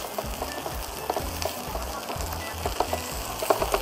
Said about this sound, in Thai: แล้วก็ผมจะตามด้วยพริกเลย คั่วไปพร้อมกันนะครับผม